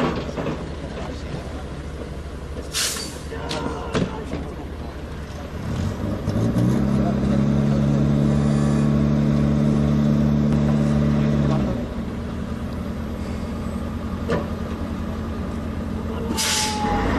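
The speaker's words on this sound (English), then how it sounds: "You will now see the Bofors gun towed by a tow truck called the Scania." A Scania tow truck hauling a Bofors gun rumbles past with a loud, steady engine drone building for several seconds and then fading, amid a few brief hissing air bursts and background noise.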